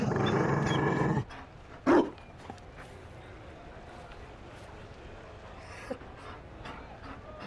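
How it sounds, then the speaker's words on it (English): A Mabari war dog in the video game Dragon Age Inquisition gives a short, loud bark burst after a stretch of game music, then quieter ambience with faint growling under it. "You found a dog."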